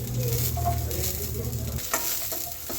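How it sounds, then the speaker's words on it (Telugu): Fresh grated coconut frying lightly in a pan for curry leaf chutney, a close, steady sizzle over a low hum with a few soft stirring scrapes and no voices. "ఇవి కూడా వేయించుకోవాలి కొద్దిగా లైట్గా వేయించుకుంటే పచ్చడి అనేది బాగా టేస్ట్గా ఉంటుంది"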